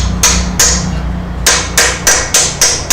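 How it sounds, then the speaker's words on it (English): A driver tapped against the extension housing of a Ford automatic transmission gives a run of sharp metallic knocks at an uneven rhythm, close and loud, about eight strikes over a low background hum. "you can hear that different noise, different sound when this driver's there hit the extension housing"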